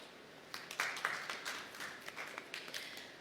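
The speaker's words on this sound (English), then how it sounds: "Let's give ourselves a round of applause." Scattered, light clapping from a small conference audience at a hotel, a few hands tapping unevenly for about three seconds at moderate distance, with no voices over it.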